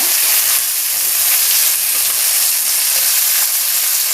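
Chopped onions fry in hot oil with cumin and mustard seeds, giving a loud, continuous close-up sizzle with no pauses.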